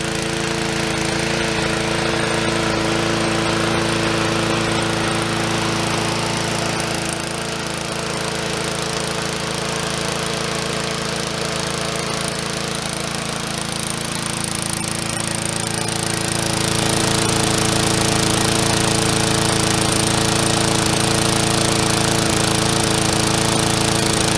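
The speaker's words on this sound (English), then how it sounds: "let's see if this Murray will still run here" A Murray lawn mower's small engine runs loud and steady, a continuous rough, buzzing drone that holds without a break and grows slightly louder toward the end.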